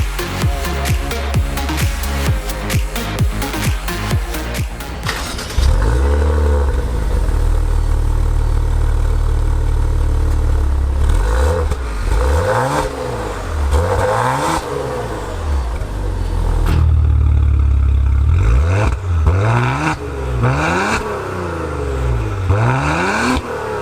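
Twin-turbocharged 2.9-liter V6 of an Alfa Romeo Stelvio Quadrifoglio starts up and revs repeatedly, deep throbbing swells rising and falling in several blips over a steady idle, close and loud with no talking.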